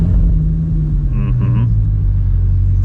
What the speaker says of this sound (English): 3, 2, 1, pushing the brakes and starting up the Bugatti Mistral.